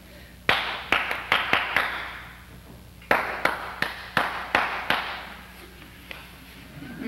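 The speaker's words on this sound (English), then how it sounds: "I will now clap my hands in a certain pattern, and I want you to repeat it exactly" A single person claps a deliberate rhythmic pattern of sharp, close hand claps in two bursts, a quick run of five then another run of six, with a short pause between and faint room hum underneath.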